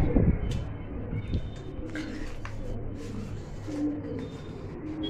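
Wild pigeons give soft, low cooing calls close by, mixed with flapping, rustling and background noise.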